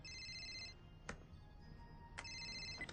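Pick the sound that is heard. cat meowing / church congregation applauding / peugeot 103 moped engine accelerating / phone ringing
phone ringing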